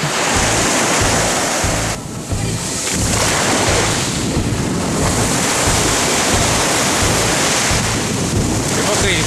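Sea waves break and wash continuously onto a beach on a hot day after a storm, a loud, steady roar of surf with rushing backwash, buffeted by wind noise on the microphone throughout.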